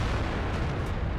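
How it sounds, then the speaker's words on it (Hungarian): M103 tank cannon firing in World of Tanks, a single loud heavy boom with a dense rumbling blast that fills the short moment, no voices over it. "Na hát ez egy elég furcsa lövés volt"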